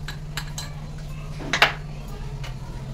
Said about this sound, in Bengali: এই বাটির মধ্যে আমি বেসন দিয়ে দেবো 3 চামচ মতন